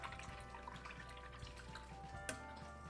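A paintbrush being rinsed in water during a beginner painting class, heard as faint, quiet swishing and dripping with a single brief clink near the end.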